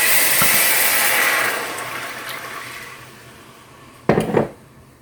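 Four cups of plain water poured into a heated cooking pan: a steady rushing pour that tapers off, then a brief clattering of the pan near the end.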